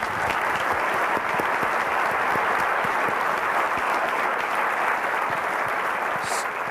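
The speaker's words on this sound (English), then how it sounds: "there probably will be applause here also, which is fine" Sustained applause from a college audience at a State of the College address, a dense, steady wash of many hands clapping at close range with no pause or talk over its full length.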